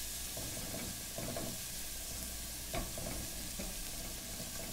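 Garlic sautés in a pan for homemade BBQ sauce, a soft steady sizzle with a few clinks of a utensil stirring, close but fairly quiet, with no voices.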